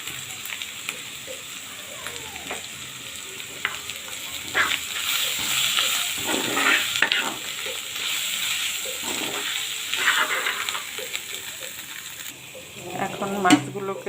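Ginger, turmeric powder and chili powder fry for a prawn bhuna, giving a steady moderate sizzle with occasional stirring scrapes and clinks throughout.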